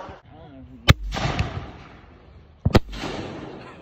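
Fireworks going off, two sharp, loud bangs about two seconds apart, each followed by a crackling, hissing tail, with a voice briefly audible before the first blast.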